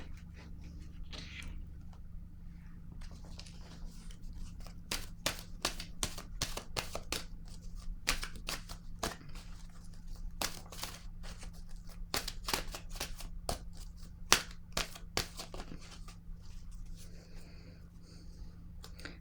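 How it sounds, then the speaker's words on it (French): A deck of oracle cards is shuffled and a card drawn, producing quiet, rapid papery flicks and riffles in irregular bursts over a low steady room hum. "Je vais piger une carte de mon oracle de l'âme intuitive."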